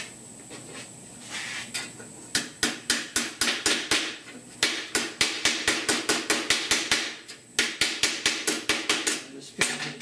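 Rapid, regular planishing hammer blows ring against sheet metal being shaped into car A/C dash vents, close and sharp, in several long runs broken by brief pauses.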